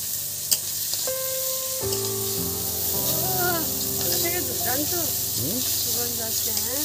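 Sliced bitter gourd sizzling in a pan as it is stirred with a spice mix over low heat, a steady frying hiss with scraping strokes while someone talks and music plays underneath.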